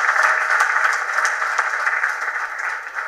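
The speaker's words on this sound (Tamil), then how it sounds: "நல்ல கைதட்டி அந்த குழுவை பாராட்டுங்க." An audience at a movie audio launch applauds steadily, a dense even wash of many hands clapping that carries on throughout and fades slightly toward the end.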